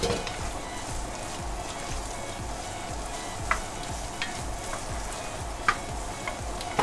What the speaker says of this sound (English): saute for just 1 minute